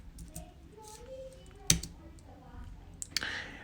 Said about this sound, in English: Now I'm going to type in voiceover keyboard class. And I'm going to hit enter.